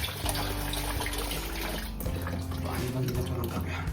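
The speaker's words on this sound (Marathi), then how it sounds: "पाणी बंद करूया कारण का भरत आलं आहे पाणी." Water runs from a tap into a container, a steady close hiss and splash, with a voice speaking over it.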